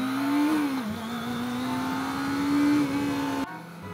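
A Kawasaki ZX25R 250cc four-cylinder motorcycle revs hard and high, its close, loud engine note holding steady with a brief dip before cutting off near the end.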